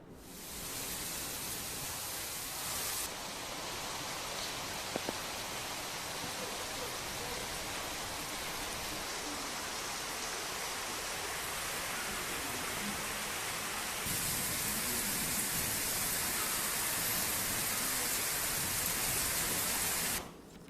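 Heavy rain in Rajahmundry pours down in a dense, unbroken hiss that holds steady throughout and grows slightly brighter and louder toward the end.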